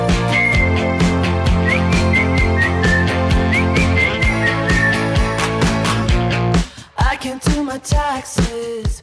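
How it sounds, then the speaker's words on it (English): A whistled melody hook rides over a full pop-rock band in a song, steady and prominent for most of the stretch before the arrangement thins into sparser drum and guitar hits. "A brand new Canadian hit song that features a whistling hook"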